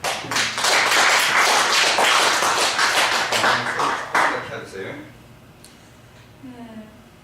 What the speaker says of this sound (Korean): 박수 한번 해줍시다.